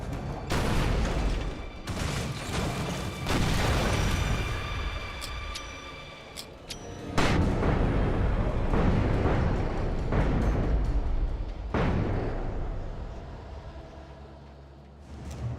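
Repeated grenade explosions boom in Alan Wake Remastered, a string of loud blasts and rumbling bursts spread across the clip with no talking.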